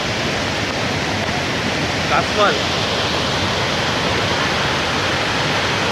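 Heavy water flow at a full-pressure waterfall at Pen Kasmal in the Konkan, a steady, dense roar filling the whole clip, with a brief spoken word partway through.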